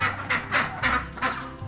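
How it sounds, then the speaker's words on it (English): A group of ducks calling as they move together on a farm in rain, four rhythmic honking quacks about a third of a second apart, close and fairly loud. "What's interesting about the ducks is they stay together and they move."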